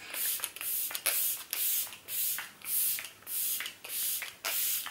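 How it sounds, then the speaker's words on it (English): GLAM Glow Setter makeup setting spray is misted in a quick series of about eight close, hissing pumps, each a short airy burst with brief gaps, and no talk. "I'm going to go in with my GLAM Glow Setter Makeup Setting Spray and lock this look in place."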